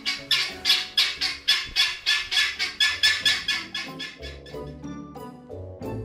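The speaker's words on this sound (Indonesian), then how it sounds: "ayam Jenny memiliki keunikan yang lain, yaitu suaranya yang nyaring" Guinea fowl give a loud run of harsh, repeated squawking calls, about two per second, that fade slightly toward the end before another call starts.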